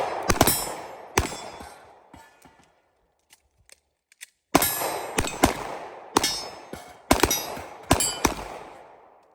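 Gunshots ring out against falling steel targets during a range training drill, the sharp reports paired with metallic clangs in quick bursts: a pair at the start, scattered faint hits, then a rapid string of loud, close shots with ringing impacts.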